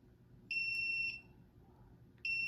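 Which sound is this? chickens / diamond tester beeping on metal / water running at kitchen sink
diamond tester beeping on metal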